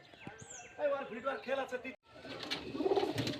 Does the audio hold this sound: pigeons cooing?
yes